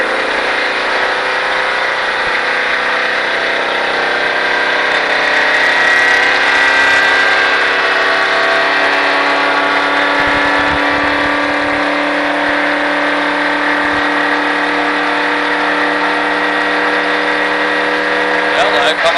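A stock car on a race track during a Richard Petty Driving Experience run holds a loud, steady engine drone throughout, with an instructor's voice talking over it.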